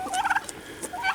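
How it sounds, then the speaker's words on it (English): Turkeys gobbling on a homestead on a cold January morning, a quick run of warbling gobbles repeated twice, fairly close and clear with no talk. "I let the chickens and turkeys and all out a little while ago."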